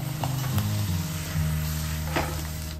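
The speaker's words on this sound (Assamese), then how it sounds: "পুৰি আৰু বেঙেনা ভজা তেলখিনিতে পাপৰো ভাজি দিছোঁ" Papad fries in leftover oil that was already used for puris and brinjal. The oil gives a close, steady sizzle with a few bright crackles, and a low tonal hum runs underneath. No one speaks.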